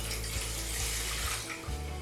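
Water poured from a container into a stingless bee feed mixture of demerara sugar, a steady close splashing stream running without pause.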